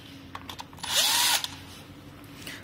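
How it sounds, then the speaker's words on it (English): Electric impact gun loosening a battery bolt on a Nami Klima electric scooter, a single loud whirring burst of about half a second, up close with no talk. "You can use a 5mm Allen key or use a electric gun like this."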